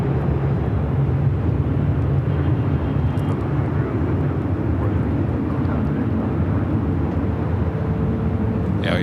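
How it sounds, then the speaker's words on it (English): Japan Airlines Boeing 787 Dreamliner at LAX, a loud, steady jet engine roar with a low rumble that carries through the whole stretch, fairly near. "we're going to stick with the Japan Airlines Dreamliner up next"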